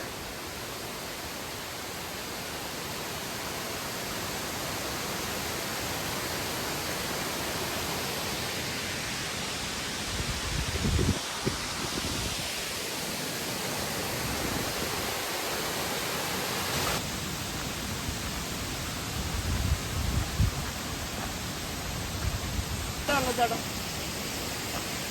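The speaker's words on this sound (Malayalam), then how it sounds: "കണ്ട ആദ്യത്തെ വെള്ളച്ചാട്ടം എത്തിയിട്ടുണ്ട്" Constant broadband rushing of a monsoon-season waterfall at Amboli Ghat, Maharashtra, fills the scene, steady and enveloping, with occasional louder bursts and faint voices.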